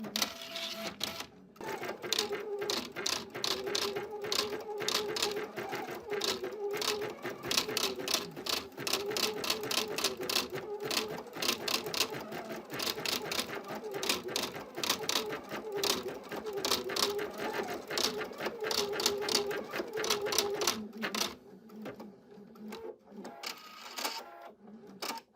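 A sewing machine with a ribbon embroidery attachment stitches steadily in a fast, even rhythm for about twenty seconds, then stops, leaving a quieter tail.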